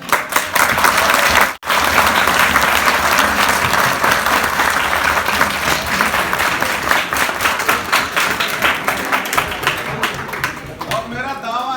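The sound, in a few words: audience clapping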